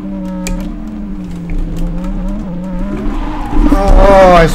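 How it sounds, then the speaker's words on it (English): Racing car in a video game spinning out, an engine droning and shifting pitch while tyres squeal and skid, rising into a louder screech near the end. "I spun out and then I got helped."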